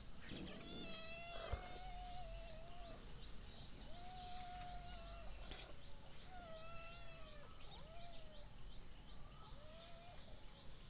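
Several cat meows, drawn-out and rising and falling, repeat every couple of seconds at close range over steady background noise, with no talking.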